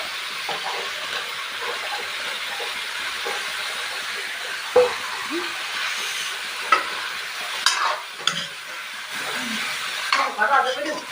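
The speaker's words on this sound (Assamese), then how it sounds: "এই মছলাখিনি ভজা হৈ গ'ল। এতিয়া মাংস দি দিম।" Spices and meat sizzling and frying in a pan, a steady crackling hiss throughout with a few louder clatters of stirring near the end.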